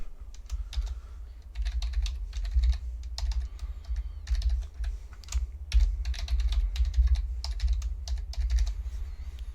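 A password is typed on a computer keyboard while setting up a Gmail account in Windows 10, bursts of quick close key clicks with short pauses between, over a low background hum.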